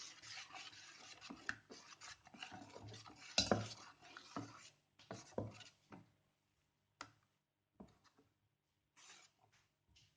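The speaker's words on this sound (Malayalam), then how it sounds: "ഇനി നമുക്ക് നന്നായിട്ട് മിക്സ് ചെയ്ത് കൊടുക്കാം." A spoon stirs salt into appam rice batter in a bowl, close and soft, with a run of wet scraping and scraping against the bowl that then slows into a few isolated strokes, no talking.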